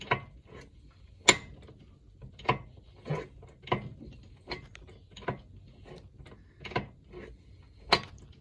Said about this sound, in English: kickstart, like I say, you hear that little clunk there